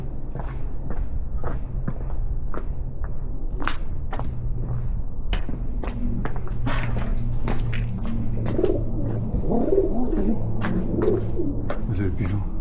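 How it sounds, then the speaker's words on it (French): A pigeon coos in soft repeated low calls in an old medieval village. Other birds chirp, and people chat faintly in the background. "Vous avez le pigeon."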